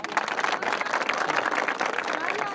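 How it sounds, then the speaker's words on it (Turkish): An audience applauds a prize winner at an outdoor health run and bicycle award ceremony in Erzurum, a steady dense clapping throughout with a voice speaking over it. "Solmaz Hanım'a kocaman bir alkış"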